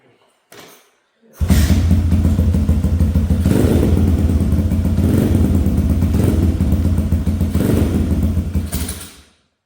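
An engine-swapped pit bike starts with a brief cough, then idles loudly and roughly close by for several seconds, with mechanical clatter and slight revving, before cutting off.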